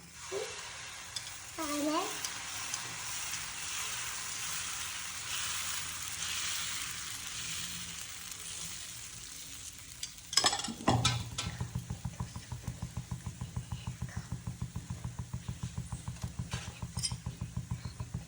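Pearl millet batter sizzles on a hot pan as a kambu dosa cooks, a soft steady hiss that gives way after a metallic clink to a sharper, pulsing crackle, close and moderately quiet.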